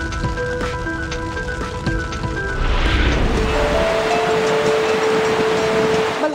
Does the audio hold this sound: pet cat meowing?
no